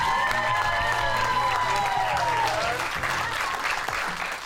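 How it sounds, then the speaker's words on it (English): An audience bursts into steady, loud applause with some cheering for a football player, sustained throughout and fading slightly at the end, with a voice faintly audible beneath. "Give it up for number 83, Juwan Johnson."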